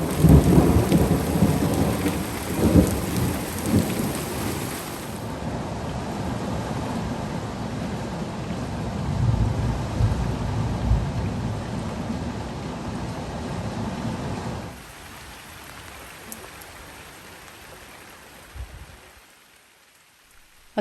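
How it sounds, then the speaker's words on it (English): A heavy outdoor thunderstorm with dense, steady rain and rolling thunder rumbles, loud and enveloping, then easing to softer rainfall before fading out. "The storms can be quite amazing out here,"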